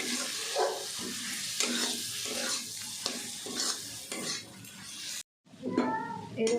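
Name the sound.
spice masala being stir-fried in a pan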